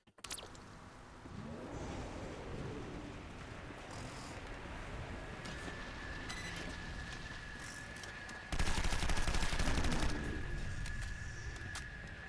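Sustained heavy gunfire from a gunship cannon in a first-person shooter game, a dense continuous barrage that swells louder for a couple of seconds near the end before easing back.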